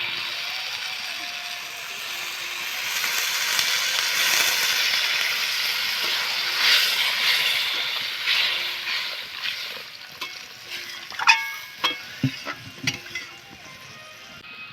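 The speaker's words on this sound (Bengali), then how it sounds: "এই ডাল আর কপিটা আমার ভাজা হয়ে গেছে।" Dal and cauliflower frying in a pan, a steady close sizzle that fades toward the end, giving way to scattered clinks and stirring knocks.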